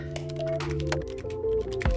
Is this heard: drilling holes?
no